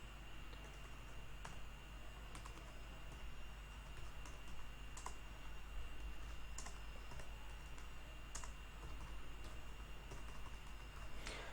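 Computer keyboard typing HTML code: a steady stream of soft key clicks with occasional sharper taps, close and fairly quiet over a constant background hum, with no talk.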